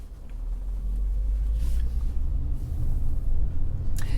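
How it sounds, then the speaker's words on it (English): A Hyundai ix35 hydrogen fuel cell car moving through London traffic gives a steady low rumble of road and traffic noise, continuous and fairly loud with no speech. "even in a hydrogen fuel cell vehicle, negotiating London traffic"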